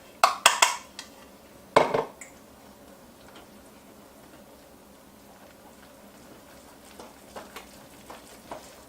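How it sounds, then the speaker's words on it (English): Brazilian cheese bread batter stirred after ten ounces of flour go in at once, a few sharp scraping and clinking strokes early on, then soft, sparse stirring sounds close by with no talking. "which we are going to stir in all at once until there is no more dry in the mixture"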